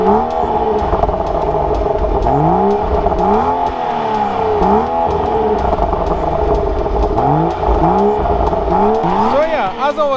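A 2015 BMW 435i xDrive with an M Performance exhaust revs repeatedly, a deep burbling engine note rising and falling in steady swells, close and fairly loud throughout.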